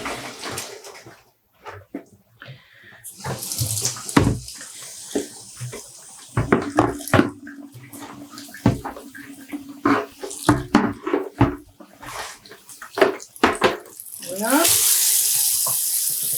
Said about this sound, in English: I'll pour out this yarn and water.